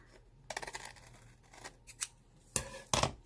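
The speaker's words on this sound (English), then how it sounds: "these file folders make for a little bit of challenge cutting that off" Scissors snip through thick file folder paper in several short, sharp cuts, close up and alone with no talking.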